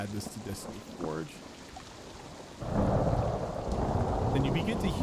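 A thunderstorm effect added for a tabletop role-playing session: a low rumble of thunder breaks in and gives way to a steady roar of heavy rain, after a voice speaks briefly over quieter background noise.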